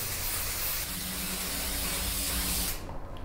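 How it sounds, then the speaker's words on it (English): Hairspray is sprayed onto hair in one continuous, close, airy hiss lasting about three seconds before it stops abruptly. "Just a little bit of hairspray."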